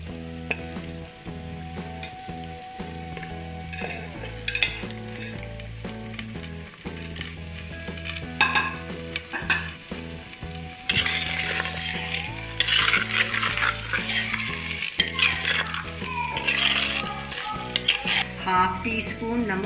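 Mutton sizzling and frying in a pan for mutton kunna, with steady crackle and repeated scraping and clinking of a utensil stirring against the metal, close and continuous throughout.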